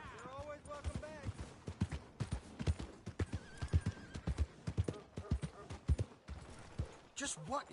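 Horse hooves clip-clop on the ground in Red Dead Redemption 2, with whinnies and neighs rising over the steps, mixed with game dialogue and ambient noise, fairly close and moderately loud.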